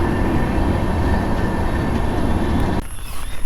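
A train rumbles past close by near Uthralikkavu temple in Wadakkanchery, Thrissur, among paddy fields, a loud steady roar with rattling, then cuts off sharply near the end, leaving quieter background noise.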